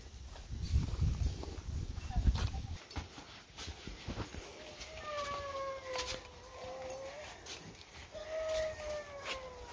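A dog whines and whimpers in drawn-out, high-pitched tones after some rustling and handling noise close to the recorder.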